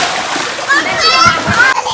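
Children splash and play while bathing in cold water, with loud splatters and sloshing close by under excited kids' chatter.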